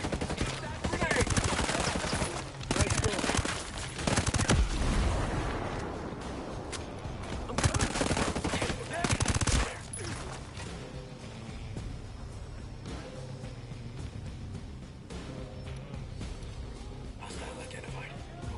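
Rapid bursts of automatic gunfire and single shots ring out during a firefight in the video game Ghost Recon: Breakpoint, loud and dense for several seconds, then thinning out, with voiced in-game callouts over the battle.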